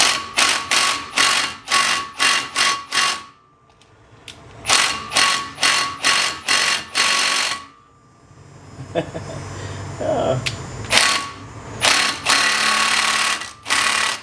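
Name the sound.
battery impact wrench loosening Ford Fusion brake rotor bolt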